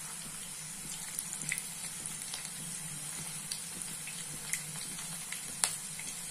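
Curry leaves dropped into hot oil for kanda poha, a steady close sizzle and crackle with a few sharp pops, quiet and without talk.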